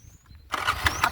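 A scooter engine kicks into life partway through, a sudden loud mechanical roar with a rough pulsing rumble replacing near silence, recorded close by during a mother's riding lesson.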